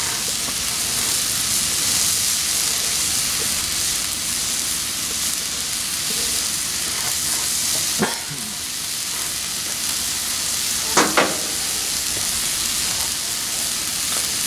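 Steak sizzles steadily in a hot pan, a continuous bright frying hiss with a few sharp pops and crackles near the end, close and loud with no talking.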